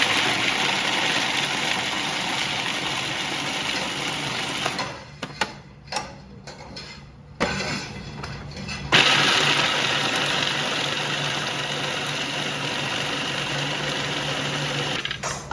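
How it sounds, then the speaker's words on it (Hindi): Electric chopper crushing fried cashews coarsely for Alsi pinniyan, a loud steady whirring motor running throughout with a brief stop-start break midway before resuming, no talking. "अब काजू को ना चॉप करने लगी हूँ। चॉपर में डाल के ना तो ज़्यादा नहीं पीसना है इसको, बस क्रश ही करना है"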